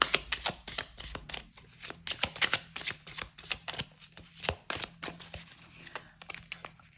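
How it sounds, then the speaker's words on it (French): A deck of Dark Mansion tarot cards is shuffled and drawn, with rapid riffling flutters and crisp slaps that come in quick clusters, close and fairly quiet. "avec le Dark Mansion, on va tirer 2 cartes pour vous"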